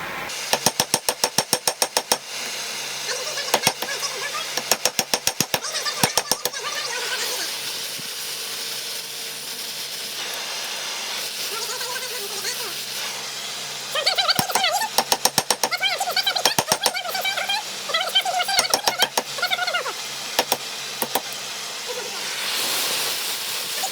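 Rapid bursts of metallic hammer blows on hot steel over an anvil ring out in clusters over a constant hissing roar, loud and close, with long gaps of steady hiss between bursts.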